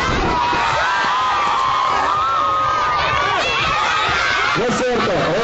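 Loud crowd at a wrestling match shouting and cheering in a dense, continuous roar, with scattered yells rising above the babble throughout.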